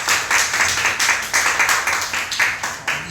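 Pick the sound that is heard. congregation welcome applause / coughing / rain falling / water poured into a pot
congregation welcome applause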